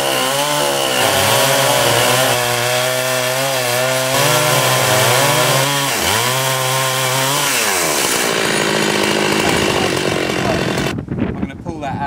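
Loud chainsaw mill engine screaming through a log during quarter sawing, the pitch rising and dipping as the bar pinches and the throttle varies, then winding down before stopping near the end.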